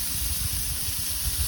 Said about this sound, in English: Some big burgers. Oh, sizzle, sizzle, sizzle.